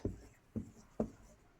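A pen writes on paper in three short, distinct scratchy strokes spaced about half a second apart, close and quiet, with no talk over them.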